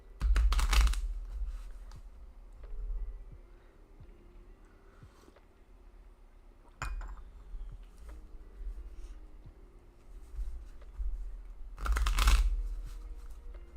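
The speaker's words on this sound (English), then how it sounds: "that was a good shuffle" A deck of reading cards is riffle-shuffled in two loud bursts, one at the start and one near the end, with quieter card handling and small taps in between; no voice is heard.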